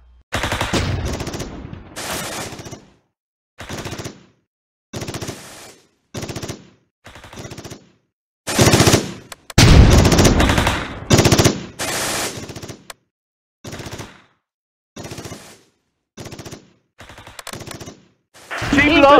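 Machine gun bursts from the Close Combat video game, loud repeated volleys of rapid fire separated by short silent gaps, with occasional heavier gunfire blasts.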